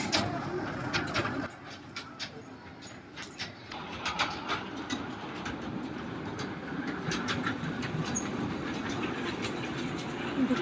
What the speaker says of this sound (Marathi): इरा आता इथे आम्ही आलो आहे इराला झुकझुक गाडीत बसवायला.